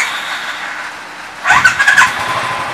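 A Royal Enfield motorcycle engine is started with manual decompression and a kick start. After a quiet stretch, a short, loud burst of sputtering cranking is heard nearby.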